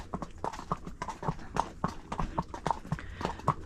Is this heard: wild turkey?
no